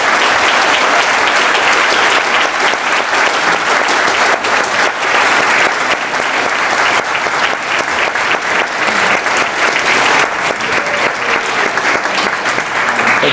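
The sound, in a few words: audience applause for award honorees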